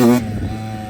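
A Yamaha YZ85 dirt bike engine gives a brief, loud, buzzy blast of rev that drops almost at once to a steadier, quieter running drone, heard close by.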